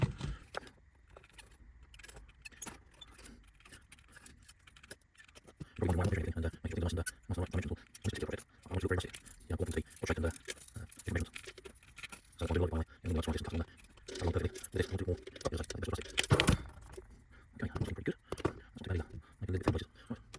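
Cutting small parts for a scratch-built garden railway model water tower, a rapid run of close clicks and snips that picks up partway through and continues steadily.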